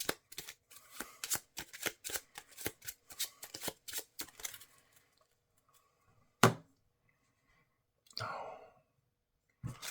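Playing cards being shuffled on a table for a Marvel Champions card game, a rapid run of crisp riffling clicks up close, then a pause, a sharp snap and a softer brushing shuffle, with a sigh in between.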